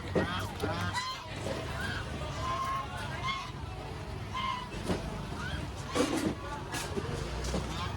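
Ducks and geese honk and quack in irregular bursts at a busy live poultry market in Bangkok, heard up close over a steady crowd babble and people talking nearby.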